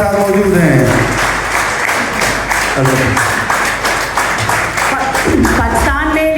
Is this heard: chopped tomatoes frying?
no